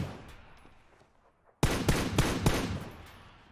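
A loud gunshot from the PUBG video game breaks a quiet stretch, then a quick run of further sharp shots rings out and fades.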